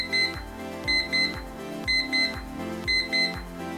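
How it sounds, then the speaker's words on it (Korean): A Time Timer clock's alarm going off as the countdown reaches zero, sounding as repeated pairs of bright electronic beeps in a steady rhythm, moderately quiet and close, with no talking. "이렇게 알람 소리로 알려줍니다"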